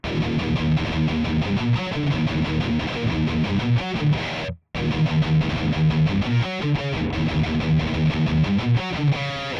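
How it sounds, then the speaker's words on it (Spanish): Electric guitar (Mayones Hydra) played through heavy distortion, a dense sustained riff with chugging chords and runs that fills the whole clip and breaks off for a split second midway, with no voices. "Y vamos a checar el mismo ejercicio, pero con distorsión."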